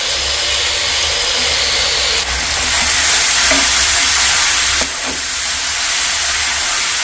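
Masala paste with a pinch of asafoetida sautéing in oil, a loud, steady hissing sizzle that swells and drops slightly, broken by two faint clicks of stirring; no one talks.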